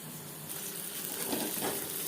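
Pointed gourd (potol) frying in oil in a kadai, a steady close sizzle and crackle that holds evenly throughout with no voices.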